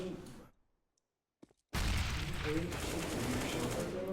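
Gunfire in a CS:GO tournament match: a brief burst of shots, then near-silence, then a loud sustained stretch of rapid gunfire and clatter with a commentator talking over it.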